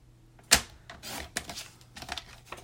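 A paper flap being cut for a handmade pocket card, a sharp snip at the start followed by softer crisp cutting and rustling sounds, close and quiet with no talking.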